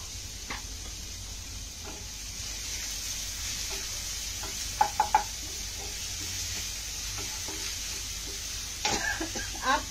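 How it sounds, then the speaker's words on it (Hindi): Chopped onion sizzles in hot chili garlic oil with a steady, close frying hiss, broken by a few sharp clinks and scrapes of stirring. "और अभी हम चॉप्ड ऑनियन ऐड कर देंगे"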